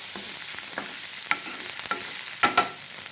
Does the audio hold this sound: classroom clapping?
no